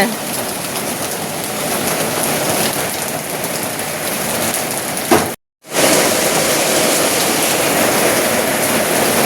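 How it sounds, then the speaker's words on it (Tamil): Steady rain falls outdoors as a dense, even hiss that holds for the whole stretch, with one brief dropout near the middle. "வந்ததுல இருந்து மழை இருக்கு போக முடியலங்க"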